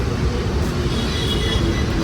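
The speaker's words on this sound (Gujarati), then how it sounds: "પણ ટ્રેન અહીંયા નજીક જ થાય ટ્રેન" A train passing close by in Mumbai, a dense continuous rumble of rail cars and wheels holding steady and loud throughout.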